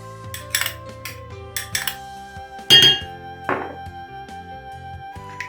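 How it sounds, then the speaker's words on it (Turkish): A spoon clinks and taps against a bowl while yogurt and egg yolk are mixed, giving irregular bright clinks in short bursts over a soft steady tonal background. "Bunları güzelce bir harmanlıyoruz. Karıştırıyoruz."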